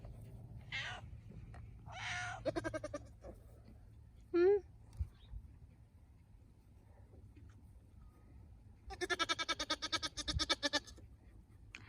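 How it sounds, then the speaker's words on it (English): A doe goat in heat bleats repeatedly in a barnyard, with loud wavering calls coming in bursts, the longest near the end, and a person speaking quietly in between. "Now, Alita usually isn't super talkative either. This is just because she's in heat"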